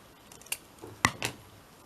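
Scissors cutting paper craft tickets: three faint, crisp snips spaced apart in a quiet room, with no talking.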